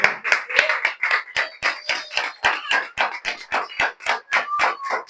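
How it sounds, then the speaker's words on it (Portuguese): A church congregation at a Sunday service claps in a quick, fairly steady rhythm, a dense run of close, crisp hand claps with no talking over them. "Em nome de Jesus, aplauda o Senhor."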